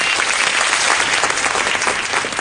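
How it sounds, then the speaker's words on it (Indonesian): A large theater crowd claps loudly and steadily for a stand-up comedy show, a dense, continuous wash of applause with no break. "Tepuk tangan untuk Aetra Learning Center sekali lagi"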